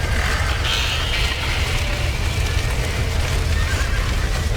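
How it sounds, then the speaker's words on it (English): Horses whinny and stamp in Red Dead Redemption during a farm fire scene, with loud neighing over a constant roaring, rumbling background and hoof clatter. "Somebody get them horses out."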